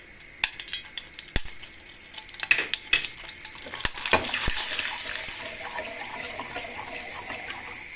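Red pepper flakes and black pepper hit hot oil in a pan with a few sharp clicks, then a rising, steady sizzle that holds to the end.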